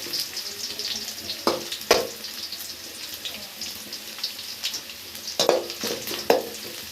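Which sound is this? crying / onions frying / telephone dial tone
onions frying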